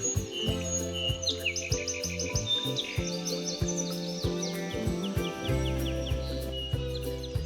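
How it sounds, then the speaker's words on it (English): Birds chirp and tweet in quick repeated bursts, several high calls overlapping against a soft natural background with no one talking. "The baby bird is home!"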